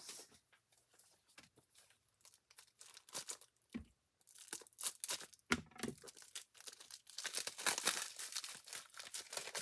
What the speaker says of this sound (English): Time to open the new pack.